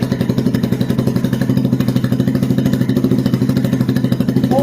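A Janus Gryffin 250 motorcycle engine idles with a steady, rapid single-cylinder thumping pulse, loud and close, running evenly throughout without speech.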